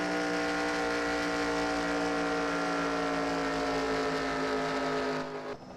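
Race car engine in a video game held at full throttle without lifting at Chicagoland, a steady loud droning whine that continues for several seconds and then cuts off abruptly near the end.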